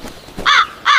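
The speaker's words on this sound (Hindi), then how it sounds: "तभी वहां एक कौवा उड़कर आया।" A crow caws twice in quick succession, loud and near, two harsh bursts with a short gap between them.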